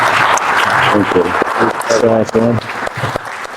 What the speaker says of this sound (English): Give Juwan a big round of applause.